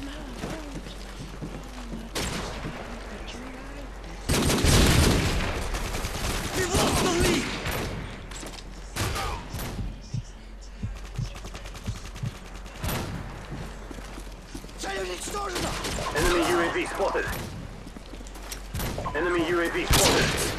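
Gunfire fills a Modern Warfare 2 online match: scattered shots and heavier bursts, some loud and close, others further off, mixed with game noise and someone talking over it.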